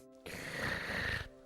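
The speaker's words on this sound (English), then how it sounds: "It's still gonna be pretty loud snoring" A single loud, rasping snore plays in the PlayStation video game Discworld, about one second long and heard alone.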